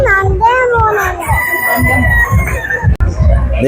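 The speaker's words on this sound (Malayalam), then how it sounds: "ഇവിടെ എല്ലാം പല വെറൈറ്റീസ് ഉള്ള കോഴികളാണ്" A rooster crows amid clucking chickens of various breeds at a pet show, with children's voices and chatter mixed in close by.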